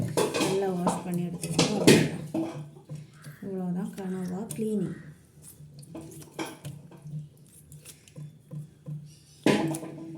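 Squid being washed in water in a bowl, with wet sloshing, splashing and clinks of the bowl that come in bursts, while a person talks over much of it.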